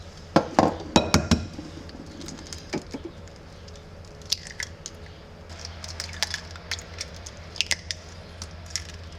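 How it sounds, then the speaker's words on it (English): Three eggs cracked into a bowl while baking lemon poppy seed bread: a cluster of sharp shell taps and clinks near the start, then scattered lighter clinks and kitchen clatter, close and fairly crisp. "now I'm gonna add in 3 eggs"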